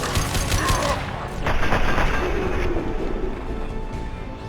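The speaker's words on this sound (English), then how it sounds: "Firing a high impact shot." A powerful high-impact gunshot goes off in the sci-fi shooter game Mass Effect 2, a sharp crack followed by booming gunfire and clattering combat effects, loud and dense.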